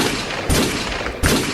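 Gunfire in a dramatic scene, a dense, continuous volley of shots with two sharp louder bursts standing out, close and loud with no talk over it.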